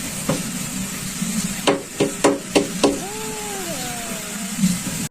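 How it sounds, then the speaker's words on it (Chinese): Something deep in a mine knocks on metal with five sharp, evenly spaced strikes, followed by a low, wavering moan-like tone sliding downward in the dark, hollow space. "隐藏在矿洞深处的东西不断敲打着某种金属，同时还发出瘆人的呻吟。"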